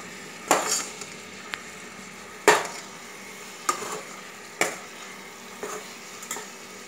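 Tamarind pickle being stirred in a pan on the heat, with soft sizzling under a series of distinct scraping strokes, about six spread irregularly and close by; no voices.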